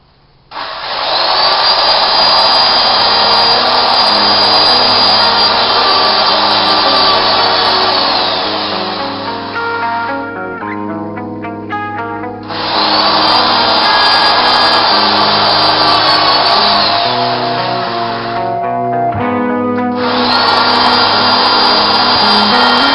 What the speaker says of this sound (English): And then I drill through all 3 pieces of the plexiglass.